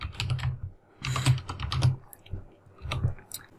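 Keys clack on a computer keyboard in several quick clusters of typing with short gaps between them, close and fairly loud.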